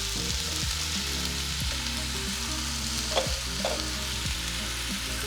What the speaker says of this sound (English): Now we're going to add our sliced chile poblano.